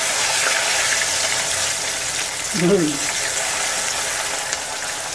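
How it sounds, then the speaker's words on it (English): Potatoes deep frying in flavored ghee give a constant broadband hiss and crackle, with a short stirring or bubbling scrape near the middle and no voices. "So I'm deep frying the potatoes in the flavored ghee."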